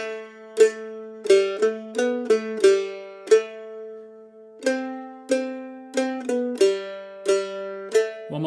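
Beginner version of a riff played on mandolin, plain plucked notes in an even rhythm over a low droning bass note, close and clear without talk.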